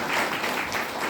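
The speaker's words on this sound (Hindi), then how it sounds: "एक जोरदार ताली" Dense, steady applause from an audience at a motivational business gathering, a brief wash of many hands clapping together at close range.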